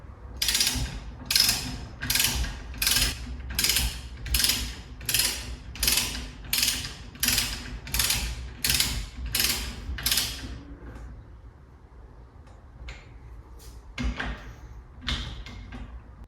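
A ratchet wrench clicks in a steady, even rhythm of about a dozen strokes while torquing down a fork adjuster assembly on a 2010 Kawasaki KLX450R dirt bike, followed by a pause and a few scattered clicks.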